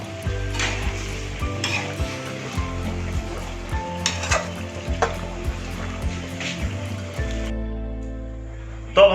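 Stuffed pointed gourd, parwal, fries in a kadhai for a Banarasi sweet, oil sizzling steadily while a spoon stirs and scrapes in repeated rhythmic strokes, ending with a soft clink.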